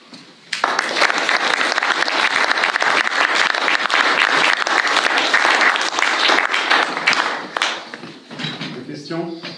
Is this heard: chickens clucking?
no